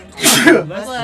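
A single loud, close human sneeze bursts out sharply and then trails into a brief voiced tail, at a tabletop role-playing game session.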